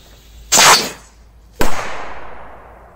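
Two sharp, loud firecracker bangs go off on ice about a second apart, the second followed by a short crackling, hissing tail.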